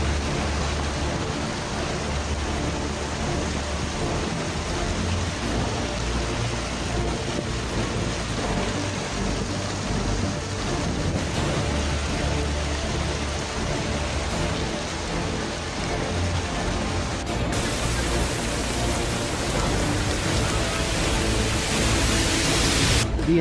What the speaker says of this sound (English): there was a hailfall coupled with heavy rainfall